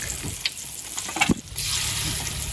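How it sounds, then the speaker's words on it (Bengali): Chicken pakora drops into hot oil with a few knocks and splashes, then a loud, steady, close crackling sizzle fills the rest of the moment. "এখন চিকেন পকোড়া ছাড়বো সেই করে।"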